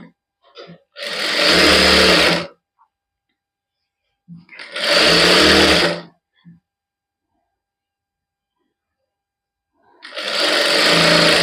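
An electric sewing machine stitches plain cloth in three loud, steady whirring runs of about two seconds each, separated by near silence.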